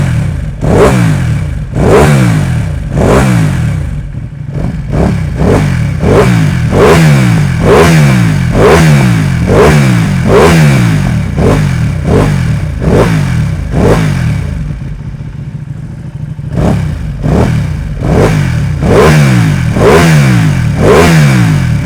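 A Ducati Panigale V2 fitted with an Arrow titanium exhaust revs repeatedly from idle, each blip rising and falling in a loud, close rhythmic series, with a brief lull near the end before the revving resumes.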